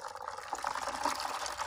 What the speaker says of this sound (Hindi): ये देखिए मैं पानी इसके अंदर शामिल करूंगी